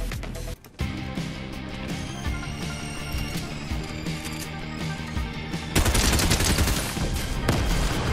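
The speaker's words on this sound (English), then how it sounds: "Well, I hear gunfire somewhere." Gunfire in the Fortnite video game: rapid automatic bursts and single shots crackle steadily at mid distance, then grow louder and denser near the end, with no talk over them.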